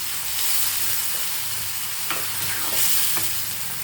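A ground tomato and onion paste sautés in hot oil for beetroot kurma, giving a dense, continuous close sizzle with a few light scrapes of a stirring spoon.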